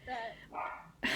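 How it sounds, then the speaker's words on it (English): A dog barks at someone walking past, in a few quick, close bursts, overlapping with people talking. "he's just barking at someone taking a walk"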